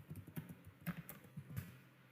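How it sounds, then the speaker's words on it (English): Quiet, close typing on a computer keyboard while entering a password at a PostgreSQL prompt, about a dozen soft, irregular key taps over two seconds with no talking. "now we have to type the password"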